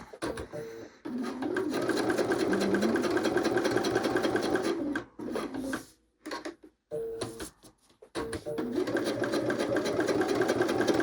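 A sewing machine stitching a raw edge wallet runs in close, steady bursts of rapid mechanical whirring, with brief pauses and short stop-start runs in the middle before running continuously again.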